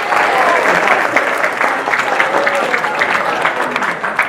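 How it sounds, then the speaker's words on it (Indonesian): A school audience applauds a student, a loud, dense wash of many clapping hands that holds steady throughout. "Tepuk tangan lagi untuk teman."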